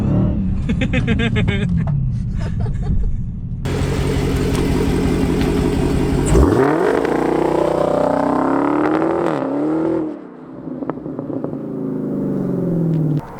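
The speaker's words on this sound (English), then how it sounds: "you're probably just gonna do a big burnout right now" A 700-horsepower Hellcat engine roars close and loud, revving hard with rising and falling pitch sweeps as it does a burnout, with a brief dip before the engine surges again.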